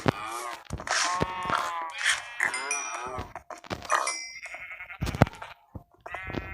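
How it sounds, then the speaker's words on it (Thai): Sheep in the Minecraft game bleat repeatedly in short, nasal cries, several overlapping calls close up, with clicks and other game sounds between them. "ต่อไปก็จะเอาอาหารไปให้พวก แกะก่อนนะ ทุกคน แกะ"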